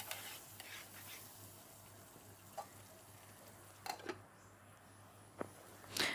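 Butter chicken being stirred in a pan makes faint, quiet scraping sounds, with a low sizzle and a few sharp utensil clinks against the pan.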